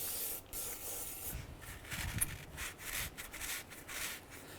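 A wire brush scrubs a solvent-wetted front wheel hub on a 2011-2017 Honda Odyssey with steady, hissing rasping strokes, fairly quiet and continuous, with no voices.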